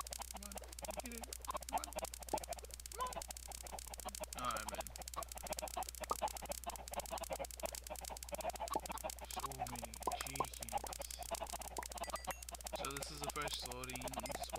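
Chickens cluck repeatedly in an automatic chicken farm in Minecraft, a busy layer of short clucks running under steady background hum and occasional talking.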